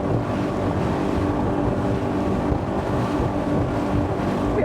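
A Highfield ADV9 motorboat runs at about 40 knots through a one-metre swell, giving a steady loud engine drone mixed with rushing water and wind buffeting the microphone.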